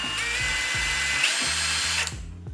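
A cheap 18V cordless brushless impact driver runs continuously and loudly close up, whirring while its anvil hammers in a rapid rhythmic rattle as it tightens a nut, then winds down abruptly.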